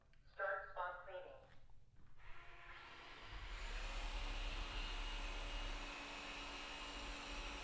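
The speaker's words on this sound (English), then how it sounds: "the vacuum's going to go around in a circle that gets larger and larger, just cleaning that one particular area" A Thamtu G11 robot vacuum cleaner in spot cleaning mode starts up after a few seconds of talking, then runs with a steady, close whirring hum to the end.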